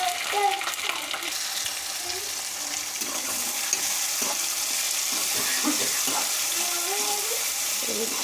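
Chopped tomatoes frying in oil for an egg and potato curry, a steady hiss of sizzling under a voice talking intermittently, with light stirring movements.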